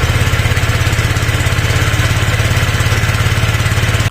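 A motorcycle engine started on the electric starter with a new battery runs steadily, close and loud, with an even rapid pulsing throughout.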